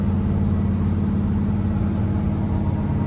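A 1965 Corvette convertible's original 365-horsepower V8 idles steadily, a loud, deep rumbling burble with a low throbbing pulse that holds even throughout, with no talking over it.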